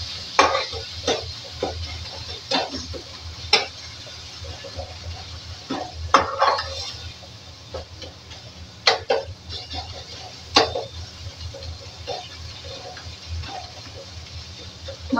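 Spices with turmeric and red chilli fry in a pan and are stirred, a low steady sizzle broken by sharp, irregular scrapes and knocks of the spoon against the pan, close and fairly loud.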